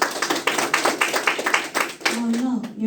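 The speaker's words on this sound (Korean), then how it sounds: "열심히 토론을 해주신 두 팀께 우렁찬 손뼉을 쳐주시면 고맙겠습니다" An audience claps together for two student debate teams at the end of a university debate on adopting a four-day work week; dense, steady applause fills the room, with a voice starting up near the end.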